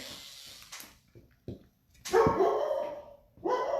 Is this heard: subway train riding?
no